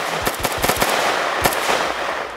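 Gunfire in a GTA MTA roleplay game, a burst of sharp cracking shots in uneven rapid succession followed by a lone loud shot and a few scattered ones, close and prominent over a faint background.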